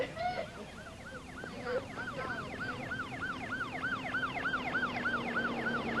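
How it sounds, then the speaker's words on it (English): A wailing ambulance siren cycles rapidly up and down, steady and moderately distant, with a low engine hum underneath. "The Wolcott Volunteer Ambulance Service responded, including EMT Jimmy Roy."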